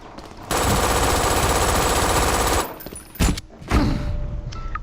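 Rapid automatic gunfire in the shooter game Brink while destroying a turret: a loud, sustained burst of close fire for about two seconds, followed by a few separate heavy shots and thuds.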